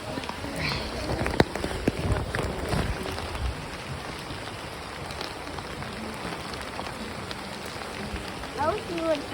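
Rain falls steadily outdoors at a hummingbird migration and nature event, a dense patter on surfaces filling the whole stretch with a few louder thumps and rustles near the start.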